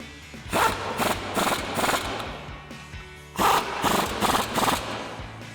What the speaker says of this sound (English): And then we'll take our 18mm socket and tighten these down.